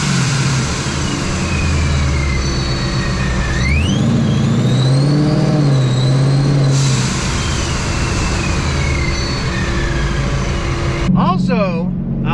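A 2022 Mustang GT with an ESS G3x supercharger revs hard from inside the car. The engine roars loudly, and a supercharger whine rises and falls in pitch with each rev over a continuous rumble.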